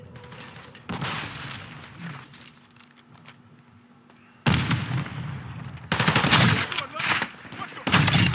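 Video game gunfire, bursts of automatic weapon fire and heavy sharp shots that start and stop abruptly, loud and dense toward the end, with game voices speaking in between.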